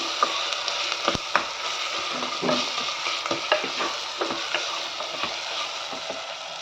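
Mustard seeds, cumin, garlic and curry leaves tempered in oil with tomato and onion fry in a pan, giving a steady close sizzle broken by scraping stirs and small clinks of a spoon.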